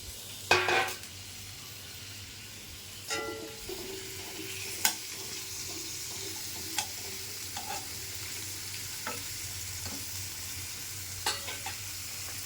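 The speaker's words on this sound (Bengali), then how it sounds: "এখন মাছটা ভাজা দিয়ে দেবো।" Tengra fish frying in oil in a frying pan, giving a constant soft sizzle with several sharp spits and pops and occasional utensil clicks.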